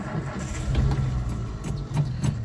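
Car engine cranking and catching, then running rough with an uneven, lumpy low rumble and a few sharper bursts, close by with no talk.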